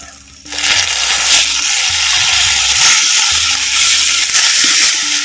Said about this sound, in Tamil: வாழைக்காய் தோலை அப்படியே எண்ணெயில் அப்படி ஒரு பரட்டு இப்படி ஒரு பரட்டு பரட்டி